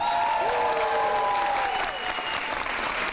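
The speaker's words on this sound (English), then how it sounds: "a big round of applause to Mr. Travis Atkins." Dense applause from a crowd at a university honors convocation, steady and loud throughout, with a few faint whistles and cheers rising above the clapping.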